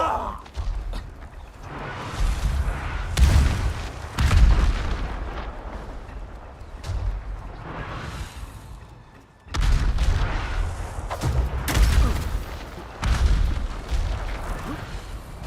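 Enemy gunfire and explosions in Ghost of Tsushima, loud and sustained, with booming blasts and crackling shots rolling in two long waves with a brief dip between.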